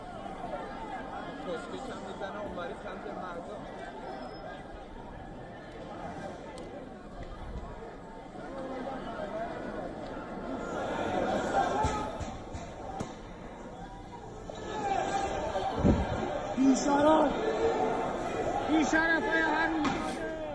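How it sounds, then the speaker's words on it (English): A large protest crowd on a covered street at Tehran's Grand Bazaar keeps up a dense roar of many voices, swelling louder in waves with a few sharp thuds. "a large crowd gathered on a covered street and can be heard chanting slogans"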